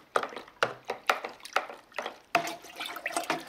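Stirring turbo clear through a distilling wash in a home fermenter: a series of sloshing, splashing liquid swirls in rhythmic pulses, close and fairly loud, with no talk.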